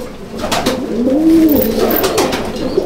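Teddy pigeons in a loft coo close by, one drawn-out rising and falling coo standing out amid softer murmuring calls and light rustling.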